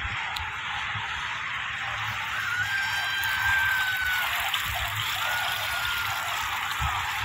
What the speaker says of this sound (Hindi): इस तरफ फवारे चल रहे हैं